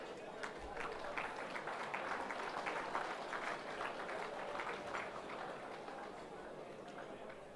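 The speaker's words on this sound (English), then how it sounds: "Big round of applause" Sustained applause fills a football and netball league awards night as winners are congratulated, a dense steady patter of many hands clapping without pause, moderately loud from start to finish.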